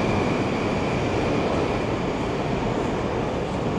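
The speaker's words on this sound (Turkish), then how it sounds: "Burası Alişer Navai metro durağı" Steady, loud rumbling roar of a train moving through Alisher Navoi metro station in Tashkent, Uzbekistan, a continuous broad wash of noise with no voices.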